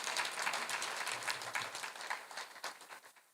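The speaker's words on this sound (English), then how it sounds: "And can we give them another warm round of applause?" Dense applause from a press conference audience, a steady wash of many hands clapping together that holds strong before thinning and fading toward the end.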